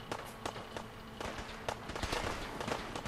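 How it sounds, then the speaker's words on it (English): Gunfire in the video game Fallout 4, with a dense, fairly faint rattle of rapid shots and crackling impacts running continuously under noisy game audio. "I'm getting shot by bullets"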